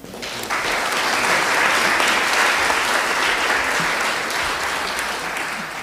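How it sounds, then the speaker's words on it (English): Audience at an art prize closing gala and awards ceremony breaking into sustained applause, dense steady clapping from a crowd that swells and holds for several seconds. "I didn't know we were going back to the clapping."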